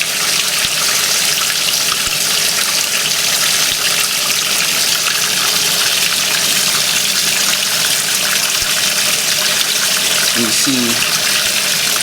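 A Kelvinator K605 washing machine tub fills quickly under strong water pressure, a steady loud rush of water pouring in throughout, with a brief voice speaking near the end.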